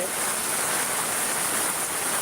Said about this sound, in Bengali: এখনো পর্যন্ত বৃষ্টি থামে না এবং বৃষ্টি চলমানে রয়েছে